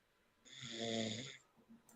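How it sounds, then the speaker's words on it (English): A woman snores once, a single soft, drawn-out rasping breath heard alone and fairly faint, followed by quiet. "heard her snoring."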